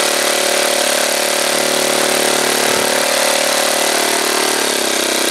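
A Saito twin model aircraft engine runs steadily and loudly throughout, a dense buzzing roar with a brief dip and stumble in the middle, running rich and prone to quitting when the throttle is advanced quickly.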